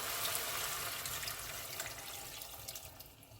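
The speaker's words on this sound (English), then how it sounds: "Now guys, I'm gonna add some water." Water pours steadily into a cooking pot in a continuous splashing stream, close by and fairly loud, with no talking.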